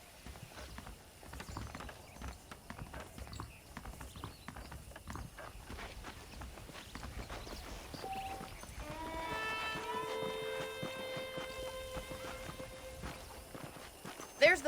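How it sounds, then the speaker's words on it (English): Horse hooves clip-clop in Red Dead Redemption, a steady walking rhythm of hoofbeats at moderate distance with faint mechanical clinks, under game dialogue. "The horses are saddled up over here."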